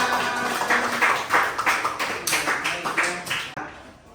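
Classroom of primary school children clapping for the winning groups, a run of quick overlapping claps at moderate level that stops abruptly near the end.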